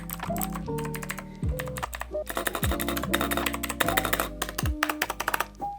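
Rapid clacky typing on a mechanical keyboard with swapped keycaps, keys struck in quick irregular bursts with a few thumps of larger keys, close up.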